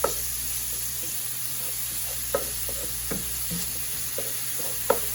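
Cabbage fried in a very hot pan while fat renders out, a steady sizzle broken by several sharp scrapes and taps of a stirring utensil against the pan.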